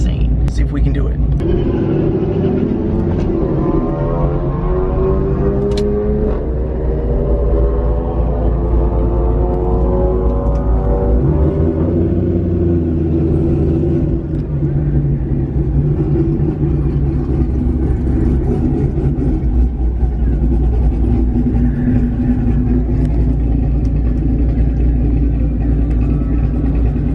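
A cammed Corvette rumbles loud and close at a drag strip, its engine rising through a couple of revving climbs before settling into a heavy, lopey drone, with voices talking over it.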